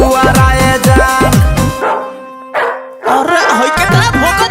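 Dog barking sound effects mixed into a Bhojpuri DJ song: loud, close, repeated barks and yips in quick bursts over sustained synth and music tones, with a brief quieter gap midway.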